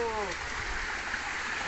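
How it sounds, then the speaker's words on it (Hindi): Water pours steadily from a pipe at a village spring, a continuous close rushing flow that runs through the whole stretch, with a brief bit of voice at the start. "और यहाँ पे ये पानी आता है।"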